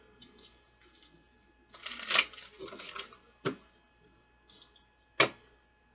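Tarot cards are shuffled in short bursts: a quick riffle around the middle, then two sharp card snaps or taps, soft and close with faint background noise.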